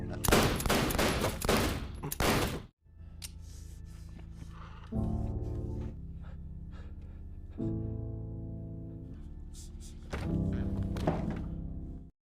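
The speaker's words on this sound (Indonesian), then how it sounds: "tidak menyangka bahwa ternyata Mickey justru menembakinya." A rapid burst of loud gunfire in an action film opens, then cuts to sustained music-like tones with occasional sharp hits.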